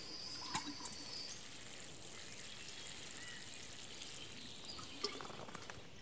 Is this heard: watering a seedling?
yes